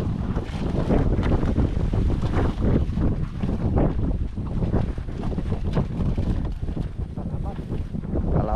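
Strong wind blows steadily across an open farm field while an anahaw-leaf hut is being built, buffeting the microphone with a loud, continuous rumble and gusts for the whole stretch.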